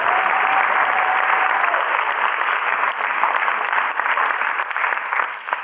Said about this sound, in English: One more round of applause for these two teams.